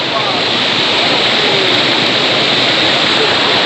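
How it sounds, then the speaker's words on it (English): A waterfall pours in a natural outdoor setting, a loud, dense, continuous rush of water with no break, close and even throughout. "see how this water is flowing"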